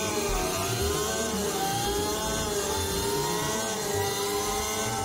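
Electric motorbike playing a simulated 600cc four-cylinder engine sound, a loud, continuous mid-pitched engine drone with shifting revs and rising tones throughout, heard alone with no speech.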